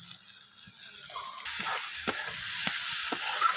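Green chillies and chopped coriander stirred into a simmering bhola fish curry: quiet sizzle that swells halfway, with a few sharp scraping clicks of the spoon against the pan.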